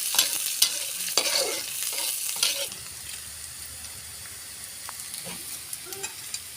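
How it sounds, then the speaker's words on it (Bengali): Chopped onions with a little minced garlic and green chilli fry in a pan. Scraping stirs and crackling come up close at first, then ease into a softer, steady sizzle with no voices. "সুন্দর করে পেঁয়াজটা ভাজা ভাজা করে নিব।"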